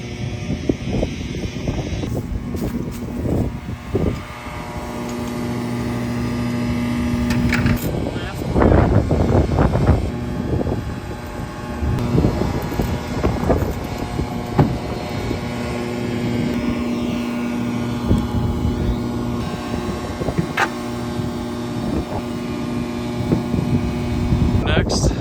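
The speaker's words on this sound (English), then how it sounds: "Sorry for the noise. They're doing road construction right there." Construction machinery works on a road close by, a steady low engine drone with clanks and rumbling bursts running throughout, while a person talks over it.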